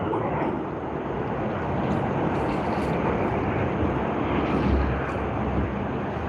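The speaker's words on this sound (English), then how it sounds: "we now have Singapore Airlines Airbus A380 that has just landed on runway 16R, and I can hear the thrust reversers being deployed" A Singapore Airlines Airbus A380 rolls out on runway 16R at Sydney Airport with thrust reversers deployed, making a loud continuous distant roar that swells slightly and holds steady.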